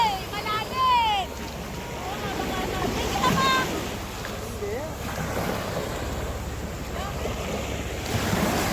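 Sea waves washing at Anawangin Cove in Zambales, a steady rushing surf with wind buffeting the microphone, heard close and fairly loud while people talk over it at times.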